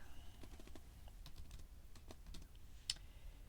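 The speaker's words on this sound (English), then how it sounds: "what I want to type in here first, it's going to be first name" Typing on a computer keyboard while filling in a form field, a quick scatter of soft key clicks, close and faint, with no talking.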